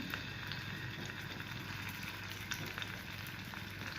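Fish pieces frying in hot oil, a steady close crackling sizzle with small pops, continuous with no voices.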